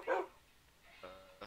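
A tamed dog in the video game Minecraft barks, a loud single bark at the start followed by two fainter yips, with no talking.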